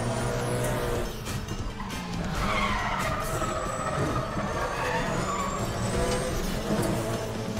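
A car drifting in the racing game Need for Speed The Run: sustained loud engine roar with continuous tire skidding and screeching, dense and close throughout, with no talking.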